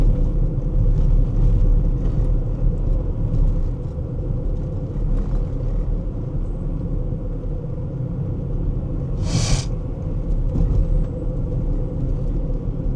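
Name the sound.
car driving over bumpy road looking for potholes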